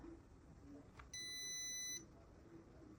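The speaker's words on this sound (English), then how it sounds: "the alarm will beep up" A steady electronic alarm tone from a light-sensor circuit sounds for about a second when the sensor is covered, high and piercing, rising out of a low hiss of background noise.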